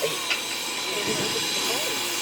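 A 1911 steam locomotive gives off a loud, continuous hiss of escaping steam up close, while a person speaks over it.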